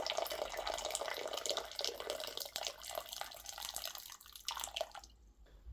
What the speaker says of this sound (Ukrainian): Сире яйце відразу на 2-3 хвилини заливаємо кип'ятком.